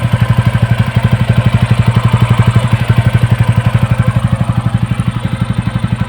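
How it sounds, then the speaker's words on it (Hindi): A TVS Ronin 225cc motorcycle with around 6000 km on it idles close by, its single-cylinder engine producing a loud, steady, even thumping pulse that continues throughout without other sounds. "लीजिए भाई सुन लीजिए इंजन की आवाज़ भी"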